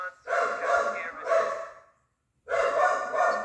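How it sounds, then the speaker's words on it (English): A dog barks in loud bursts indoors, two long runs of sharp barking and yips separated by a short silence, heard up close with no talking over it. "The dog started barking."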